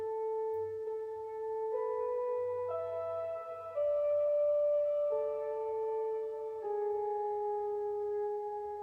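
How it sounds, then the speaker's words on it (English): Synth lead melody of sustained, stepwise notes running through an effects channel strip with reverb, playing alone over a soft low pad, with no voices. "recorded in a solo or lead. I'm just gonna call it a lead melody."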